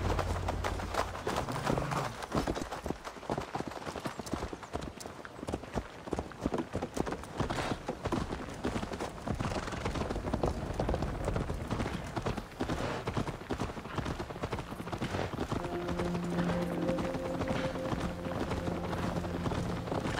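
Horses gallop with a steady, dense clip-clop of hooves on the move through a medieval Irish countryside in Assassin's Creed Valhalla, loud and continuous for the whole stretch under faint ambient music, with no talk.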